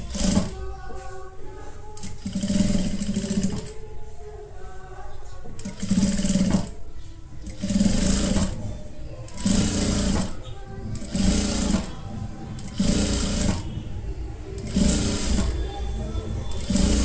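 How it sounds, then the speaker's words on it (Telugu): A sewing machine stitches a kurti in loud, rapid bursts of a few seconds each, separated by short pauses, with someone talking between and over the runs. "Same 2 sides కుట్టేసుకోండి. ఓకే, ఇటు సైడ్ కూడా సేమ్ అట్లనే కుట్టినాక రివర్స్ తిప్పుకోండి."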